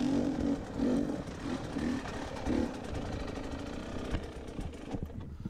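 Small manual-clutch dirt bike engine stalling while a young rider crosses a rocky trail section; a low, uneven putter of the engine chugs in pulses and then dies away near the end.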